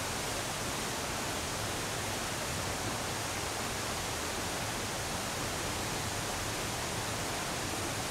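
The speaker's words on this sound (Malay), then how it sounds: "saya ada dengar something macam tiba-tiba macam bunyi air kuat semua kan." Loud, steady rushing of river water, a dense unbroken roar that fills the whole scene with no voices over it.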